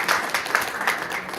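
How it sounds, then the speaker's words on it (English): Audience applause at the close of a talk at a higher education summit in Ontario, a brief burst of steady clapping from a room of listeners, fairly close and even in loudness with no speech over it. "So thank you so much, and a warm applause to Kausa."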